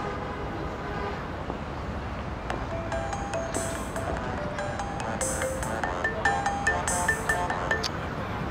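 A mobile phone rings with an incoming call from an unknown number. Short melodic ringtone notes repeat over a murky, rumbling background.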